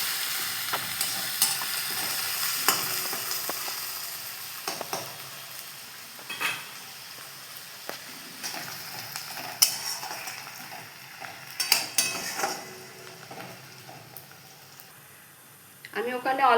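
Sliced onions fry and get stirred in hot mustard oil in a wok with bay leaves and garam masala: a steady close sizzle broken by scattered spatula scrapes and metal clinks, with a voice at times.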